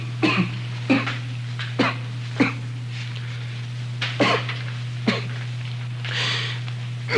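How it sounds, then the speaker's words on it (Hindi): A run of sharp coughs, about nine bursts at uneven intervals over a steady low hum, close and fairly loud with no speech. "आज फिर उस दिन की तरह खांसी का दौरा पड़ा है आपको"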